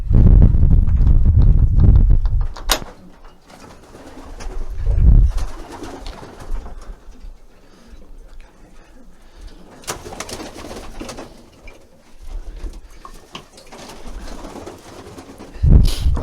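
Rare coloured pigeons on an allotment coo in deep, low bursts, several near and loud calls spread over the stretch amid rustling and faint background noise.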